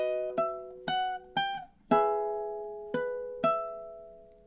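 A ukulele plucks the measure-12 phrase of the Luigi's Mansion main theme: six or seven separate clean notes and small chords, each ringing out and decaying, played alone at a moderate, slightly uneven pace.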